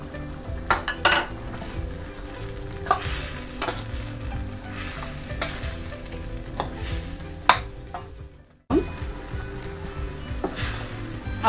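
Chicken achari cooks in a pan with oil, turmeric and chilli powder, frying with a steady sizzle while a utensil stirs and scrapes against the metal in repeated strokes. The sound drops out briefly near the end before the frying resumes.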